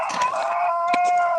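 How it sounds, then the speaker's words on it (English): A rooster crows outdoors late at night, one long, loud, drawn-out call that holds steady and then tapers off, heard alone and close by. "What is your damn rooster out there crowing this late at night for?"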